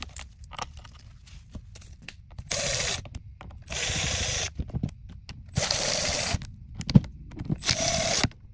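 Power tool driving bolts into the gearbox cover of a Talaria electric dirt bike, heard as several short bursts of whirring between quieter clinks and handling of parts, close by and without talk.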